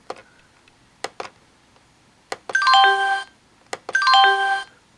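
A few sharp clicks, then two short bright Windows 3.1 system chime sequences of stacked descending tones, each about a second long, played on an NEC Versa 6230 laptop, with quiet gaps between.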